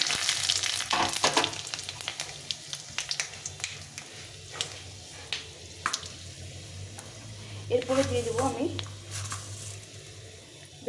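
Panch phoron whole spices crackling and sizzling in hot oil for a bottle gourd dal, with sharp popping snaps scattered over a steady frying hiss, plus some nearby stirring and faint voice in the background.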